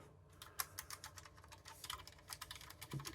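Keys on an Amiga 1000 keyboard are pressed one after another during a test, giving quiet, close, irregular clicks and taps with no voice.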